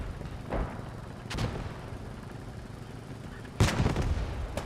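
Tank cannon fire from a Firefly tank in the Post Scriptum World War II game, three heavy booming shots spread over a few seconds against a rumbling battlefield background, the last blast the loudest and nearest.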